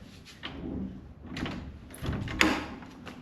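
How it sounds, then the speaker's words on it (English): A door being opened inside a house, giving a few bumps and a louder knock or latch clack near the end over a low roomy rumble, close by, with no talk. "you have to open up this lovely door"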